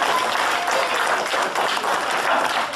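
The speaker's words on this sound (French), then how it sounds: "une huée d'applaudissements pour ma filleule" Guests at a family birthday celebration in Lachamp-Raphaël clap together in a steady, full round of applause that carries on without a break.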